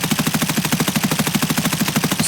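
A rifle fires a long, rapid full-auto burst in Escape from Tarkov during a recoil test. The shots are close and loud, evenly spaced in a tight mechanical rhythm, with no talk.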